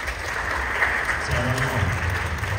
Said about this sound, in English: And we'll clap at the end.